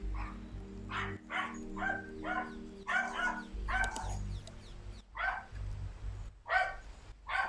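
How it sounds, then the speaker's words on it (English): A dog barks repeatedly indoors in short yipping bursts, fairly close, with uneven pauses between the barks over a low background hum. "Are you, we just going to keep barking?"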